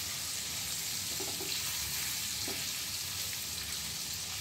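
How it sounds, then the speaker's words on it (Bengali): Paneer cubes lightly frying in butter in a pan, a steady soft sizzle with occasional faint stirring clicks, close and continuous. "জাস্ট মাখনের মধ্যে হালকা করে একটু নেড়ে নিয়ে এগুলো তুলে নিতে হবে"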